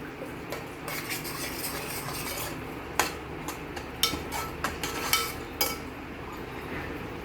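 A spoon stirring fish curry with mango in a metal pot, several sharp clinks and scrapes against the pot rim over a quiet background, with no talking.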